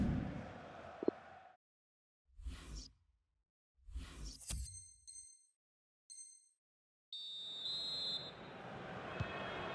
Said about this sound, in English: there goes the whistle for half time